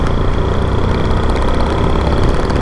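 Several motorcycles, one a Sniper 155 and one fitted with a side saddlebag, idle close by in a steady, loud mechanical drone that runs unbroken for the whole stretch.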